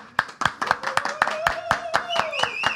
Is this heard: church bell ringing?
no